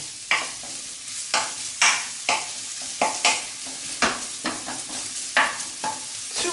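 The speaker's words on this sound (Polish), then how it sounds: "Należy boczek z cebulą podsmażyć. Pamiętamy o mieszaniu." Bacon and onion fry in a pan under a soft steady sizzle, broken by a regular series of sharp scraping strokes as a utensil stirs them, about two per second.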